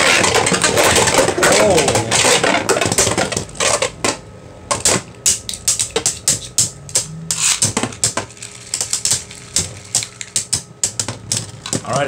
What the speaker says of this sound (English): Alright, 3, 2, 1, let it rip.